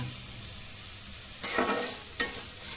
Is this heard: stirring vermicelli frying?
yes